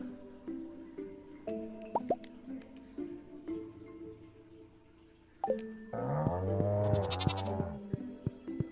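Goats bleat in the farming game Stardew Valley, mixed with chiming interface tones and plopping sounds, and a longer, louder bleat rises near the end.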